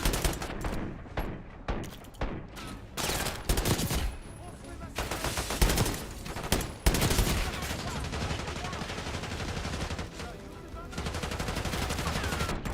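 Dense gunfire in a Call of Duty Black Ops 6 firefight, loud sustained bursts and rapid automatic fire rattling almost continuously with some louder single reports, while a voice talks faintly underneath.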